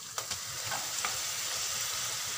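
Chicken frying in a pan with shallots and garlic makes a loud, even sizzle and crackle. A couple of sharp clicks from the pan come near the start, close up and without speech.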